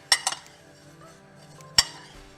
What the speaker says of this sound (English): One or a handful at a time, toss the cauliflower.